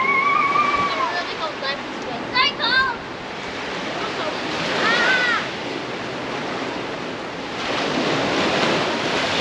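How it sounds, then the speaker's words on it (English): Ocean surf surges through a rocky coastal gorge along the Great Ocean Road, a steady wash of rushing water and wind noise rising and falling, with several people's voices calling out faintly over it. "Totally just waiting for the big waves to come"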